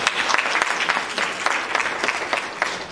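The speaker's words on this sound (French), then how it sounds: "Je souhaite qu'on vous applaudisse." An audience at a women's associations training workshop breaks into sustained applause, a dense, even patter of many hands clapping throughout, moderately loud and fairly close.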